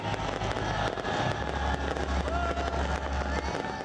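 Fireworks display at a New Year's celebration in Liberty Chowk on a cold night, with a continuous stream of dense crackling bursts and pops over steady crowd noise throughout.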